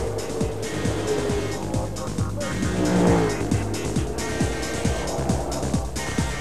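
ASCAR saloon race cars roar around a banked oval track, with loud engines droning continuously and repeated sharp revving sweeps as cars pass close by.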